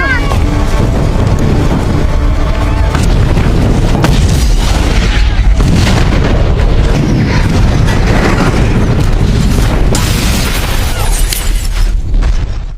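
A car explosion: a loud, sustained roaring blast with rumbling low end and crackling debris, continuing at high intensity throughout like a large explosion and its aftermath.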